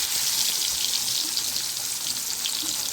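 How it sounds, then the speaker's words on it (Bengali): Potato pieces fry in hot oil for a Bengali katla fish kalia, a steady close hissing sizzle with fine crackles that continues evenly throughout, no voices. "আমি এবার তেলের মধ্যে আলুটাকেও ভেজে নেব"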